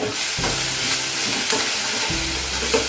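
Ginger and garlic paste sautéing in a pan for a paneer kurma, a steady loud sizzle with scraping stirs and clinks of a spoon against the pan throughout.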